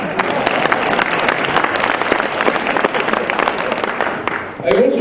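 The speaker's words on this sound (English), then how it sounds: "This is where you applaud." An audience applauds at a business forum's closing ceremony, a dense wash of clapping that holds steady and then fades near the end, with a voice or room noise briefly rising as it trails off.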